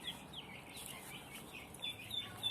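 Chickens and chicks kept for sale cluck and peep in a steady, noisy background, with several birds calling over one another and no talk.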